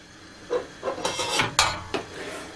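A spoon clinks and knocks irregularly against a pot as roughly two litres of salted water are stirred, with about half a dozen close, light metallic taps.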